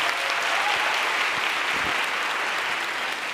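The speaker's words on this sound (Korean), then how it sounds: "우리 딸한테 박수 한번 쳐주시겠어요?" A church congregation applauds steadily, a dense even wash of clapping with no pauses.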